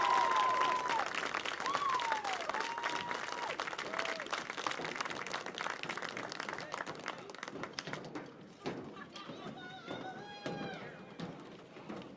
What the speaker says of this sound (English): another round of applause for the Cedar Crest High School Marching Band